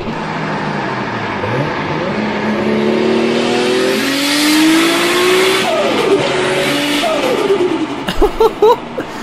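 A heavily modified, loud car engine revs repeatedly with rising and falling pitch sweeps, close and strong throughout, ending in sharp bursts of throttle blips.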